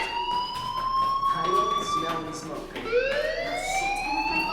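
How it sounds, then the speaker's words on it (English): Electronic school fire alarm in the Life Is Strange video game, a steady wavering tonal siren sounding continuously and fairly loud, with a brief pitch drop and restart near the end. "do you hear that fire alarm?"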